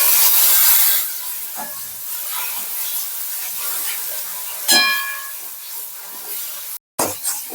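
Pointed gourd pieces stir-fry in a pan with a soft, hissing sizzle, strongest at the start and then easing, punctuated by a few sharp scrapes and clinks of the spatula; no voices.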